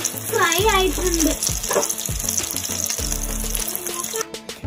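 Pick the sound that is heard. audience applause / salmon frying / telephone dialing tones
salmon frying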